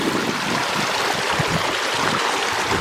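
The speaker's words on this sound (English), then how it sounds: "without falling into the river, or stream really" A small outdoor stream flows close by with a continuous babbling rush. Uneven low gurgles and splashes ripple through the steady water noise.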